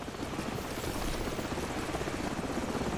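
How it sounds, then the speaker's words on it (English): Helicopter rotor in the Call of Duty Modern Warfare video game, a steady, dense chopping thrum holding at a constant loud level throughout with no voices over it. "Hold on, the helicopter's back."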